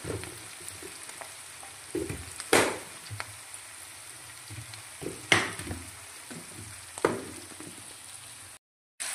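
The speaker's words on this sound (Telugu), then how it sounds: "ఇగో ఇట్లా కాయ ఇట్లా పచ్చి లేకుండా మంచిగా వేయించాలి." Sliced bitter gourd with curry leaves fries in a pan. A soft, steady sizzle runs underneath, broken by several sharp clinks and scrapes as the slices are stirred.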